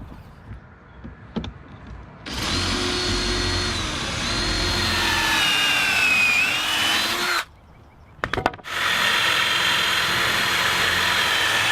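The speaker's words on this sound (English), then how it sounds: "Time to get to pocket holing." A power drill whirs at high speed in two long bursts separated by a short pause, drilling pocket holes with a jig for cabinet building, with quiet handling noises before the first.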